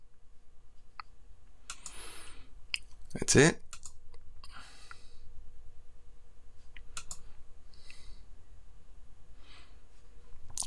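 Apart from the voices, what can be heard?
computer mouse clicks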